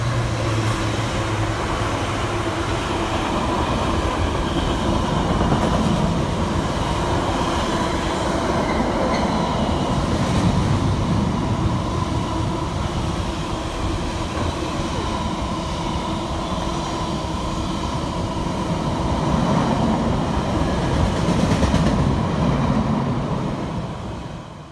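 A British Rail Class 70 freight locomotive passes at length, a steady loud rumble of engine and rolling wagons with wheel clatter and faint squeal, heard alone without talk.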